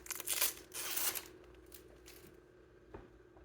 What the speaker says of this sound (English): So go ahead and unwrap these.